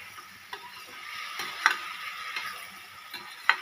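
Tomatoes salted with half a spoon of salt cook in a pan with eggplant, the spoon swirling through them over a soft, continuous sizzle. Two or three sharper clicks of metal on the pan rise above the sound, close by.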